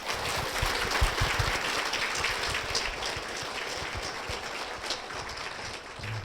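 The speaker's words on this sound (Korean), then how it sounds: "박수로 모시겠습니다" Congregation in a church gives steady applause to welcome a guest forward, a dense wash of clapping filling the space at moderate level throughout, with no talk over it.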